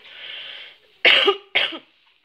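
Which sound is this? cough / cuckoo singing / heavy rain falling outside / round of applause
cough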